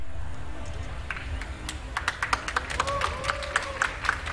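Crowd at an esports grand final between MUFC and LGD cheers and claps for the winners LGD, a steady roar broken by sharp scattered claps, with a voice speaking over it.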